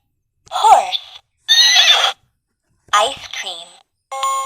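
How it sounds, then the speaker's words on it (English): A horse whinnies in short bursts separated by silence, close and clear, and a bright electronic beep follows at the end. "horse"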